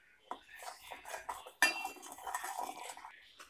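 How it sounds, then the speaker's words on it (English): A spoon stirs a homemade resin mixture of sugar in a pot, giving soft scraping with occasional light metallic clinks, close and fairly quiet. "Now I'm gonna mix it and then boil it again."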